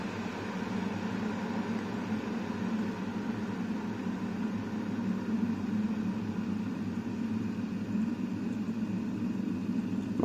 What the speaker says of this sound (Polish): A w czajniku dalej się grzeje.